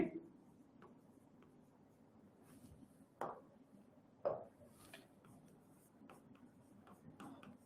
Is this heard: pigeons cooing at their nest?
no